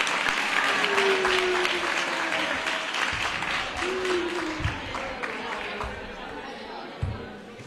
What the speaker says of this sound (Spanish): Un aplauso para ella también.